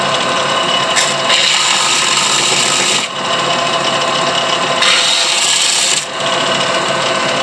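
A power sander fitted with coarse 36 grit sandpaper grinds down a rock concretion holding a fossil snail, making a loud continuous abrasive rasp with two brief dips in pressure.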